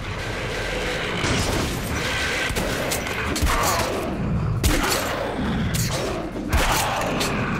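Shotgun fire in Metro: Last Light. Heavy booming shots land over dense, continuous battle noise and clatter, with several distinct blasts spread through the din.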